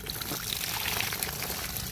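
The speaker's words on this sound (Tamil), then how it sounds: "தண்ணியை செடிக்கு ஊற்றிக்கலாம்" Water that soaked rice is poured out onto a plant, a steady splashing, trickling rush that stays fairly constant throughout, with no talk.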